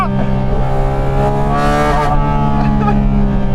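A Porsche GT4 RS engine revs hard and high in second gear, a steady, piercing, drill-like whine with strong rising harmonics that holds loud and close throughout.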